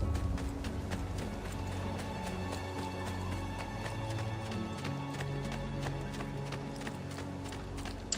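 Horse hooves clip-clopping in the video game Assassin's Creed 2, heard as a steady trotting rhythm over continuous in-game background music and ambience, moderately loud throughout.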